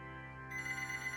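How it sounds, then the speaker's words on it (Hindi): A phone ringtone rings with a steady, sustained electronic tone, moderately faint and alone, swelling slightly halfway through. "तभी शिया के फोन की घंटी बजी।"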